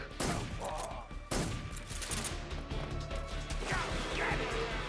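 Blasts and sharp impacts from combat in Metal Gear Solid 3: Snake Eater, with two heavy explosive bangs followed by crashing debris and continuing rumbling gunfire-like noise, loud and close.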